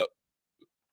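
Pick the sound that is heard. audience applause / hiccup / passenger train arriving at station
hiccup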